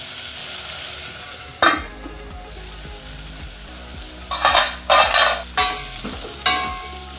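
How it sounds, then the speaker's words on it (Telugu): Radish pieces cook in a pan for sambar with a steady close sizzle, broken by several loud scraping stirs in quick bursts toward the end. "ఇప్పుడు ముల్లంగి కొద్దిగా సాఫ్ట్ అయ్యేంత వరకు కుక్ చేసుకోవాలి।"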